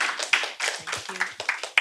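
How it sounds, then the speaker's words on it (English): A few people clapping at an online women's poetry gathering, sparse and uneven claps with gaps between them, mixed with brief voices and tapping. "big round of applause to Priya and also to our teachers"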